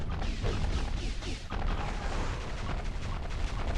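Weapon fire in Ratchet and Clank, a dense run of booming shots and blasts with explosive impacts, loud and steady, with no clear pauses.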